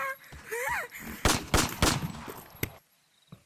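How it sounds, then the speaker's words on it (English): M9 Beretta pistol fired in a video game: several sharp gunshot bursts in quick succession, loud and close, following a brief electronic sound and fading into near silence. "we can kill him with this M9 Beretta"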